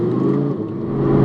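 Audi R8 V10 Plus, first generation, its V10 engine giving a steady mid-pitched whirring rev, close and fairly loud for a brief moment without talk.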